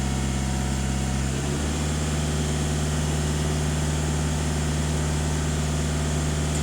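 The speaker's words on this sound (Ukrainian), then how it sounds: "Автомобіль сам піднімає оберти" A Skoda Octavia A7 2.0 TDI diesel engine idles with a steady drone, then its revs step up on their own and hold at a higher, even hum, loud and close.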